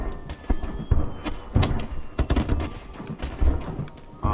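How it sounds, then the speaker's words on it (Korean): Firecrackers bursting in Batman: Arkham Asylum, a rapid irregular string of sharp cracks and pops, loud and close, crackling on and off without pause. "폭죽 존나 시끄럽네 진짜."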